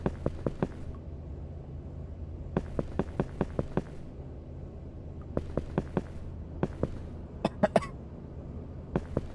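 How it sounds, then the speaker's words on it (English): Repeated coughing in the survival horror video game Neural Parasite, clusters of sharp coughs and throat-clearing bursts separated by short pauses, heard fairly clearly over a quiet background. "I hear coughing and stuff."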